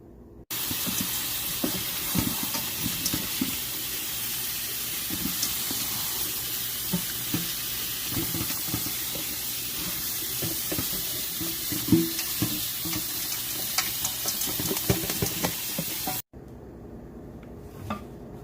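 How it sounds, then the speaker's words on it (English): Brussels sprouts are rinsed under running tap water, producing a continuous rushing, splashing flow with uneven patters against the sprouts and sink. The flow stops abruptly near the end, leaving a quieter room tone. "we have rinsed our Brussels sprouts"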